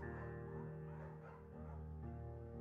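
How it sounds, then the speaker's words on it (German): Bucket, a beagle in the Firewatch game, gives quiet, tonal barks and yips that blend with a soft, sustained backdrop. "Wir nehmen den Beagle. Bucket ist ein guter Hund."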